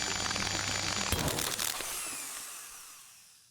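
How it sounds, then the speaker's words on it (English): A drill bores into a core inside a lab machine in the video game Stories Untold: a loud mechanical whine and grinding that bursts in abruptly, then fades into a slowly dying hum with no talking. "We are drilling the core that was in the heart."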